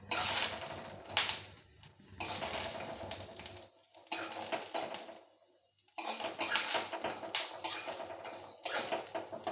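Ingredients for a mixed-greens dish fry in oil in a kadai, giving quiet, crisp crackling and spitting in irregular bursts separated by short near-silent gaps.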